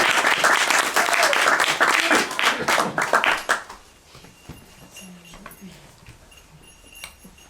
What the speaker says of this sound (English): let's give a nice round of applause for Reverend Brad.